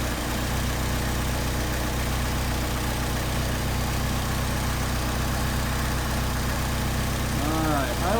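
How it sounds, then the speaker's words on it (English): Mercedes 190SL engine idling with Solex 44PHH carburetors being adjusted, a loud, steady, close rumble with constant mechanical vibration and no clear RPM swings, and a brief rising tonal chirp near the end. "you should be able to hear the change in the RPM of the engine"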